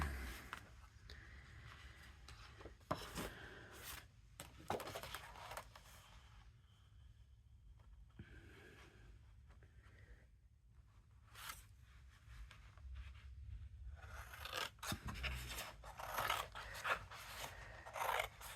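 Scissors snip through sheets of paper to cut pieces for a die-cut canal boat craft project, giving a series of close, dry cutting and rustling strokes with short pauses between, no talking.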